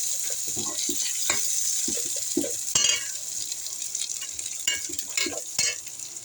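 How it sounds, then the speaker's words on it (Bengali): Spices with cumin sautéing in oil in a pan for a hilsa and pineapple curry, a close continuous sizzle broken by repeated scraping stirs and clinks of the spatula, with no talk. "এখানে আমরা মশলাটা কষিয়ে নিচ্ছি।"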